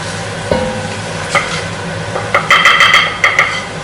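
Garlic and a spice blend hit a hot pan for a home-style chicken curry, giving a steady sizzle with a brief stir around the half-second mark and louder scraping bursts toward the end; no one speaks.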